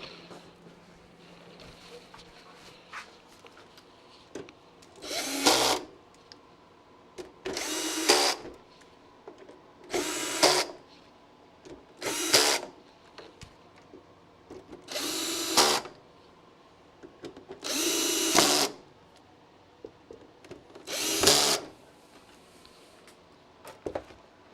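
A power drill drives screws while an Atari 5200 console is reassembled, firing in seven short whirring bursts separated by quiet gaps, close and fairly loud over faint room noise.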